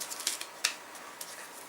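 A deck of game cards being shuffled quickly: a short burst of soft, crisp riffling clicks and flutters, faint and close, with no voices.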